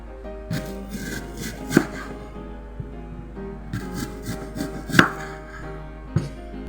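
Knife slicing food on a cutting board while preparing smoked bacon and apple toast, with a few sharp chopping knocks among softer scraping and rubbing sounds, close and fairly quiet, no voices.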